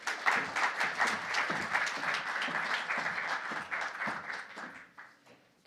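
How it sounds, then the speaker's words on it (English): Moderately quiet applause from an audience at a Disability Federation of Ireland event in Galway rolls on evenly for several seconds, then tapers off into a few last claps. "Round of applause."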